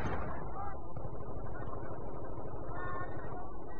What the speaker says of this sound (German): Und ich krieg Schüsse ab.